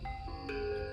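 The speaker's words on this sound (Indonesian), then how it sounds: "HP gue bunyi" A mobile phone rings with a short electronic melody of bright tones, fairly close and clear over a low background hum, with no talking.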